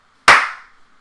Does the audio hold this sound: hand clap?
yes